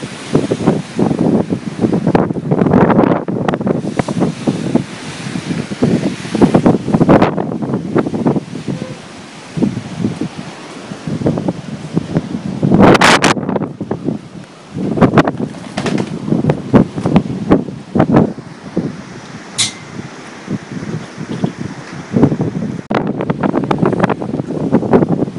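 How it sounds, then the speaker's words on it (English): Strong Hurricane Sandy gusts batter a Long Island shoreline by a dock, loud buffeting wind roaring across the microphone in surges with brief lulls, water and surf churning underneath. "you guys gotta check out the wind gusts"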